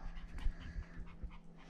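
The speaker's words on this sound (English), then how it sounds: "Those are all of our dogs." A dog, one of several pets in a household that includes a purebred Yorkie, pants rapidly and lets out soft whimpers, close and moderately quiet, with no talking over it.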